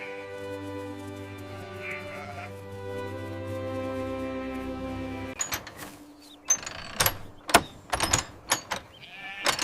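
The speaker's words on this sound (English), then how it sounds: "Farmer John closes the gate behind them." Sheep bleat in long drawn-out calls before the farm enclosure gate swings shut, followed by a rapid series of sharp clanks and rattling knocks of varying loudness.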